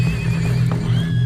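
A horse neighs loudly and close, in a long shaky whinny over a dense rumble of trampling hooves, as a sound effect for a band of riders arriving in a cloud of dust.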